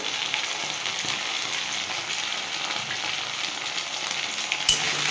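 Chicken curry with chili sauce and tomato sauce sautéing in a pan, giving a steady, fairly loud hiss of sizzling oil with light stirring scrapes and a brief clatter near the end.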